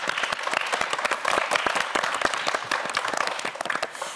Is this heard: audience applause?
yes